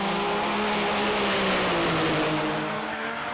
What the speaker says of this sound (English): Final look at Top Fuel Bike now, and a great run by the UK's Al Smith.